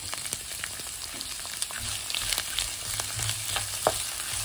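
Garlic sizzles and fries steadily in a hot pan while tempering spices for an eel curry with green mango pulp, a dense continuous crackle with scattered sharper pops and faint stirring, no voices.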